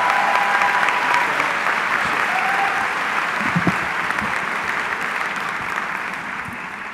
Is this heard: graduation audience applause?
yes